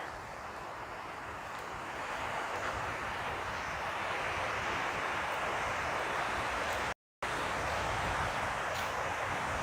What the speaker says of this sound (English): It's quite a windy day.